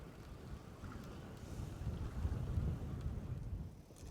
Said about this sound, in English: this wind is stupid